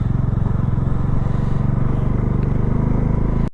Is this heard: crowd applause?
no